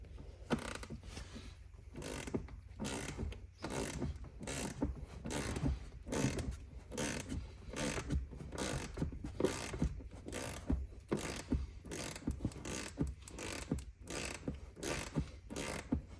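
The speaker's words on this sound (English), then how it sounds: "we're gonna remove that 12 millimeter bolt right there" Rapid, steady clicking of a ratchet wrench loosening a 12 millimeter bolt inside the center console of a 2016-2024 Nissan Titan, close-up bursts of ratcheting strokes repeating for a long stretch with brief pauses between, no talking.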